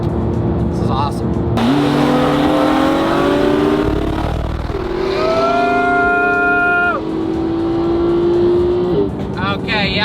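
A McLaren P1 supercar in race mode screams through rising gear pulls on a smooth road, engine note climbing steeply and dropping with each shift, loud and close, with a second car audible alongside and voices underneath.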